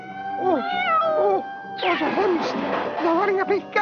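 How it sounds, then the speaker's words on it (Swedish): A cartoon cat gives several drawn-out meows, close and clear, with a character's voice speaking before and between them. "det är bara en katt"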